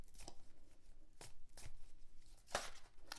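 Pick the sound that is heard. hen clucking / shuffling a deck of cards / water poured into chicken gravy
shuffling a deck of cards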